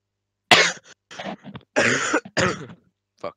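Several harsh coughs and throat-clearing bursts from a person playing the online game Isleward, loud and close, in irregular clusters separated by short silences.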